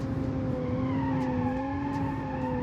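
A sedan in a driving video game slows hard from about 296 km/h, its tires squealing in a steady loud tone over engine drone and falling only slightly in pitch, with no voices.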